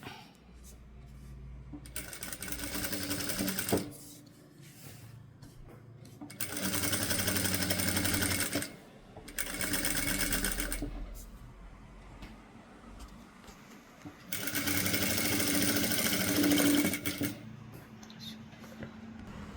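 A sewing machine stitches a neckline with stone work in three separate loud runs of rapid mechanical whirring and clatter, with quieter pauses between runs where the fabric is adjusted.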